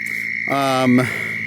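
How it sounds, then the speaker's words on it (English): A loud nearby frog call, a sustained buzzing trill over a steady high-pitched chorus of other frogs and toads calling in the background, at night in Florida. "just fantastic chorus of all these frogs and all these toads"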